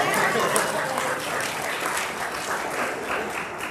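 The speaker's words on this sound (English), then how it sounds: "A round of applause to the sound guy." Steady, dense applause from a hypnosis conference audience, many hands clapping together without a break, sustained at an even level.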